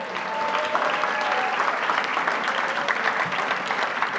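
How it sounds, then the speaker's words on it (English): Steady, dense applause fills a gala hall, a full audience clapping continuously at even loudness from start to finish with no speech over it. "give him a round of applause"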